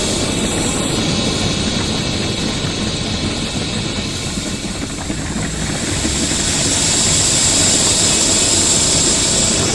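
A gasoline-fed blowtorch roars with a large open flame, a loud, steady broadband rush that holds nearly constant and rises slightly toward the end, with no voices over it.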